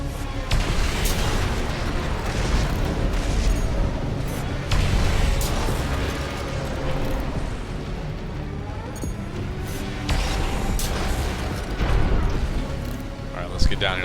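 Explosions destroying artillery launchers in the mech combat game Armored Core 6, dense rumbling booms and bursts running throughout, loud and continuous, with someone talking over the battle.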